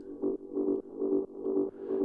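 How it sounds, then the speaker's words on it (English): A muffled low-pass synth rumble in a techno track pulses in a steady rhythm following the bass line, swelling and dipping about five times in two seconds. "So it's kind of a low pass synth,"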